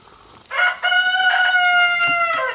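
Several roosters crow loudly and close, one long harmonic cock-a-doodle-doo call running almost the whole time with overlapping crows from other birds, no talking.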